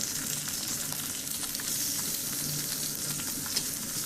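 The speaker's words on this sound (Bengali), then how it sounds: "ওই কড়াইতে সম্বারক ফোড়ন দিয়ে দিয়েছি এবং পেঁয়াজ আর কাঁচামরিচগুলো" Onions and green chilies frying in oil in a wok after whole spices are added, a steady close sizzle that holds evenly from start to finish with no talk.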